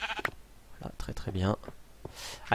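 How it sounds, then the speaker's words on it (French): A sheep bleats in the Minecraft video game, one wavering bleat in the middle of the clip while someone talks in French around it, with soft clicks in the background. "Je vais prendre le mouton là-bas parce que..."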